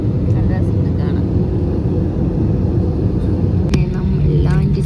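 Airplane cabin noise right after landing at Cochin International Airport: a loud, steady low rumble of engines and rolling that fills the whole stretch, with voices talking over it.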